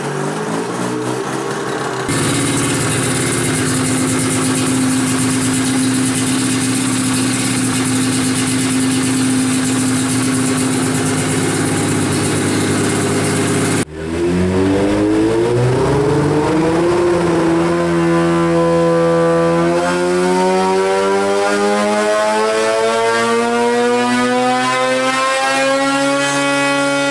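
A Polaris IQR 800 snowmobile engine on a dyno, first holding a loud steady high-pitched drone, then after a brief dip climbing steadily in pitch as it runs up, very close and alone.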